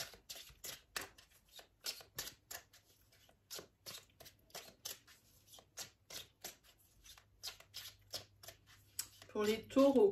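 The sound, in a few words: shuffling tarot cards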